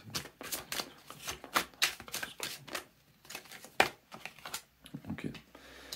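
A deck of tarot cards is shuffled by hand in repeated quick riffling bursts with short pauses between them, close and fairly crisp, with no talking over it.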